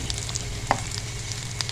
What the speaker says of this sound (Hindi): प्याज हमारा बहुत अच्छे से फ्राई हो गया